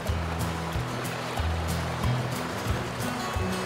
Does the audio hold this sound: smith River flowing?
yes